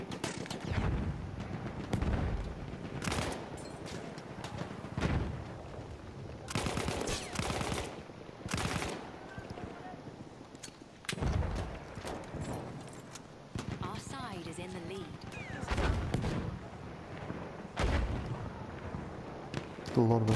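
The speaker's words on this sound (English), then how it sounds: "A lot of explosions going on here." Gunfire and explosions from the video game Battlefield 1 come in sharp bursts and heavy booms, scattered irregularly across the battle, with a player talking over much of the action.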